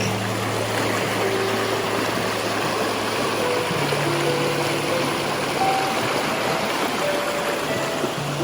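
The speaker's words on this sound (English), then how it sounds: "This is Oak Creek, and the park is called Cathedral Rock." Oak Creek at Cathedral Rock park flows in a steady, full rush of water that holds even and loud throughout, with no voices.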